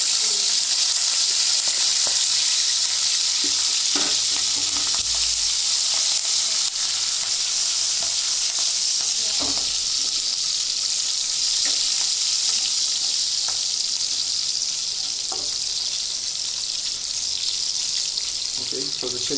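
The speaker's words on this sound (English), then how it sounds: "the chilies are now nicely fried in oil" Green chilies slit in half fry in hot oil for palak paneer, making a loud, steady sizzle and crackle that runs the whole time, with occasional faint clinks.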